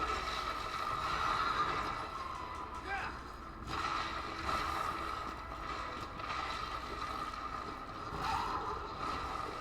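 A horse whinnies a couple of times in Shadow of the Colossus, short rising neighs over a steady ambient game backdrop with soft hoof and mechanical noises, while someone talks faintly.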